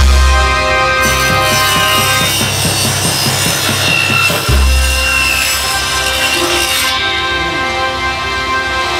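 A saw cuts through the laminate wood body of a Nashville guitar with loud, close rasping strokes, rhythmic at first, then settling into a continuous grinding rub.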